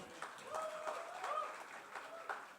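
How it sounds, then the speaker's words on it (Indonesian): Light applause from a Sunday church service congregation, a modest scatter of claps rising and falling, faint and somewhat distant, with a voice speaking over it. "kamu tepuk tangan dong buat Steven"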